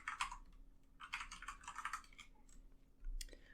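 Rapid bursts of keystrokes on a computer keyboard as C++ code is typed, with short pauses between flurries and a final cluster of clicks, close and moderately quiet.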